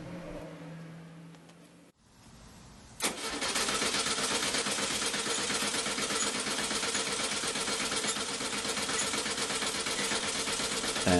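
A neglected 1975 VW Brasilia engine cranks briefly on gas, goes quiet for a moment, then catches and keeps running with a loud, steady close rumble for several seconds.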